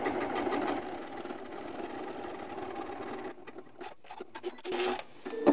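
A sewing machine stitching a Christmas tree decoration, a close continuous rapid whirr for about three seconds, then slowing into a few separate stitches before stopping.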